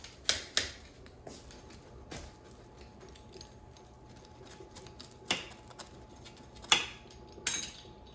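A knife cuts through a slice of crescent roll pizza in a quiet kitchen, giving sharp, irregular clicks and taps against a plate or pan, spaced apart with soft scraping between them.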